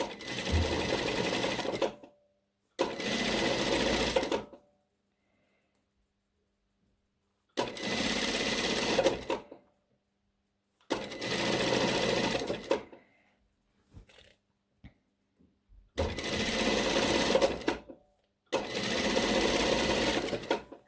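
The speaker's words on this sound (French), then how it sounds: "on plie en deux et on pique tout le long, le bord. Voilà, là pour l'instant on est en train de piquer notre bretelle." A sewing machine stitches along the folded edge of a nightgown strap in six loud, steady bursts of whirring, each a second or two long, separated by silent pauses and a few faint clicks.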